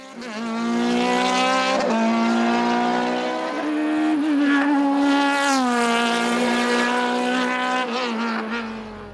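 A Norma M20 FC 2-litre sports prototype in group CN at a French hillclimb, its high-revving engine wailing loudly as it passes close, pitch rising and dropping through gear changes, with no talk.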